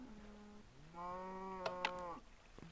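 A single long, low cow moo from Minecraft sounds at moderate distance, steady and drawn out, with a couple of small clicks over it and no talk.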